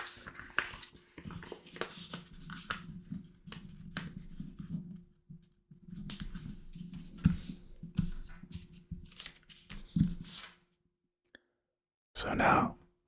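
Paper is folded into an origami crane, with close crisp rustles, creases and soft taps coming and going over several seconds, heard alongside a gentle whisper, then a short louder crinkle near the end.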